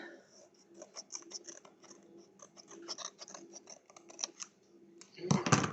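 Scissors cutting through material in a quick, irregular run of crisp close snips, ending in a louder rustling burst.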